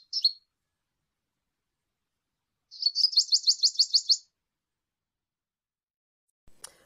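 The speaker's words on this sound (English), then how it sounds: "A dark-capped bulbul. This bird eats fruit and insects and nectar and flower petals." A dark-capped bulbul calls in a quiet setting: one short chirp, then a fast run of about eight bright, bubbly notes, clear and fairly close, followed by silence.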